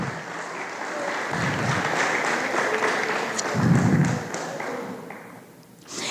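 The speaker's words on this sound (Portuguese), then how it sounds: "Se você crê nisso, aplauda o Senhor." A church congregation claps in a sustained round of applause, a dense patter of many hands at moderate distance, with a couple of dull thumps mixed in before the clapping thins out.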